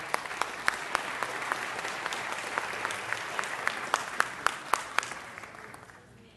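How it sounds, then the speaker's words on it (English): An audience at a city council meeting gives a round of applause, many hands clapping with distinct sharp claps standing out, then fading gradually toward the end. "Let's give them another round of applause."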